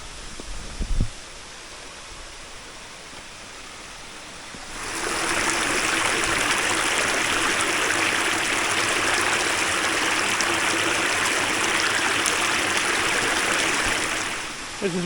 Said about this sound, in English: This is where it comes down, flows down all through here, and straight off the edge there, and that's the actual waterfalls.